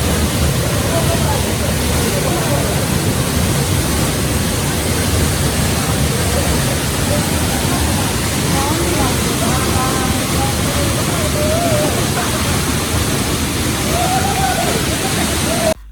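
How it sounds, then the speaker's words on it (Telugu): Apsarakonda waterfall in Gokarna roars steadily as water drops about 50 feet, a dense, loud, unbroken rushing wash that fills the whole span with constant splashing texture. "ఈ వాటర్ ఫాల్స్లో వాటర్ పడుతుంటే చాలా పెద్ద సౌండ్ వస్తుంది"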